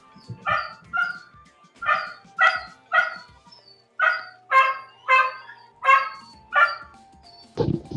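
A dog barks repeatedly in a steady series of about a dozen clear, mid-pitched woofs spaced roughly half a second to a second apart, fairly close, with a brief noisy burst at the very end.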